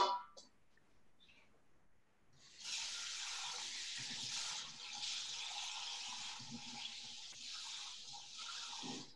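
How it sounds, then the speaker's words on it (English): Warm water, about one cup, is poured from a tap into a measuring cup while preparing challah dough, a steady splashing gush running for several seconds after a brief quiet start. "I'm going to first add warm water to my measuring cup."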